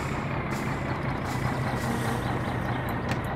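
A heavy truck in the driving game My Summer Car rumbles steadily as it comes to a stop, a constant loud engine drone with faint hiss and no talk.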